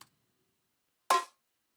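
A single short, bright metallic percussive hit with a clanky, snappy body, preceded by a faint tail of an earlier hit.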